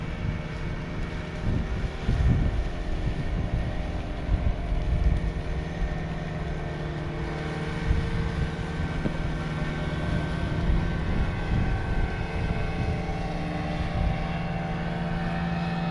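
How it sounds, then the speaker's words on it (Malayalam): Large boat passing on the water at the Periyar river estuary at Azhikode, Kerala, heard as a steady, loud low engine drone that fills the scene with no talk. "ഒരു വലിയ ബോട്ട് വരുന്നു ചെറുവള്ളം പോകുന്നു"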